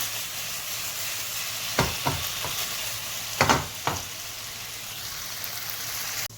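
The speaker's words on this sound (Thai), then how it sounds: "ค่อยๆคนนะครับ ให้มันสีมันเท่า ๆกันนะ" Pork for salted Thai-style moo khem is stirred and fried in a pan without any oil: a steady soft sizzle runs throughout, broken by a handful of sharp spatula scrapes and knocks against the pan, no voices.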